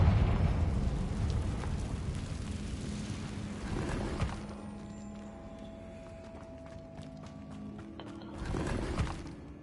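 A Confringo blasting spell goes off in Hogwarts Legacy: a loud, rumbling burst with a long tail of debris, then a quieter lull, followed by a second swelling boom near the end.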